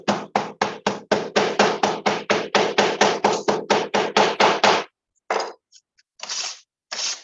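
Hammer tapping on a sand casting flask packed with clay, a rapid even run of about twenty sharp knocks, close and loud, then a pause and a few scattered taps.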